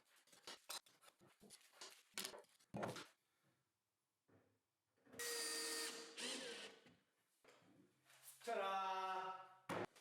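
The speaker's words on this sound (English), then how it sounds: "Then I screw the whole assembly to the wall." A power driver sets screws through a cabinet assembly into a wall on a miter saw station, with a long whirring burst midway and a second shorter run near the end, both close by among scattered knocks and handling noises.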